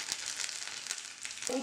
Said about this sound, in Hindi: तेल के गर्म होने पर इसमें डालेंगे 1 छोटी चम्मच सरसों या राई के दाने,